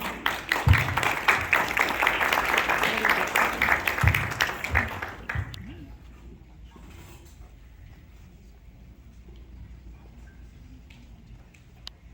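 A school audience at an elementary safety patrol ceremony bursts into loud, dense clapping for about five seconds. The applause then trails off into quiet room noise with faint scattered sounds.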